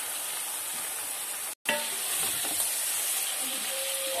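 Mutton hitting hot oil with whole garam masala, a loud continuous sizzle that cuts out briefly, then resumes with stirring scrapes and faint clinks as the meat settles.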